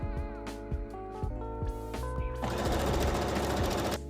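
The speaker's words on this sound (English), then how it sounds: "I'm going to cut the seam really, really short so that I can top stitch it along the seam" A sewing machine top-stitches along a trimmed seam on a tulle strawberry dress made for a dog, its rapid mechanical run starting partway through and continuing steadily over background music.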